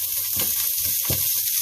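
Crispy bacon frying in a pan for seafood chowder, a steady close sizzle with a couple of louder spatula scrapes or stirs rising briefly above it.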